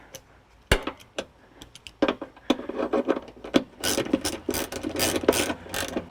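A ratchet tightens down a part on a 2015 Jeep Wrangler Unlimited JKU tailgate. It gives close, sharp clicks, sparse at first and then quickening into rapid bursts of ratcheting.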